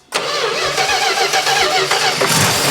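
An old 340 Duster car that sat for 30 years cranks and catches, its engine turning over with a loud, steady, rough churning that holds close and continuous for a few seconds.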